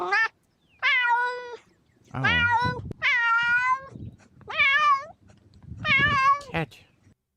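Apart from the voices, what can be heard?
cat meowing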